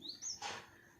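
A shama bird that has flown indoors into a house gives a couple of quick, bright chirps, close and fairly faint, with no other sounds around it.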